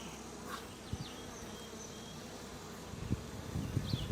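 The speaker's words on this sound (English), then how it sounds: "There's a lot of bees here" Honey bees buzzing steadily around an open hive during a July inspection, a dense continuous drone with a few louder passes of individual bees close by near the end.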